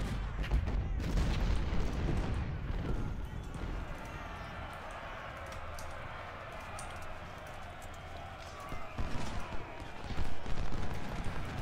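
Musket fire from skirmishers in the Civil War battle game Ultimate General: Civil War, with thumping shots and rumbling booms loudest at the start, then easing into a murky battle ambience before a few more close pops.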